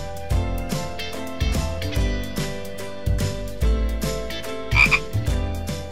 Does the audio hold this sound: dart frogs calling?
yes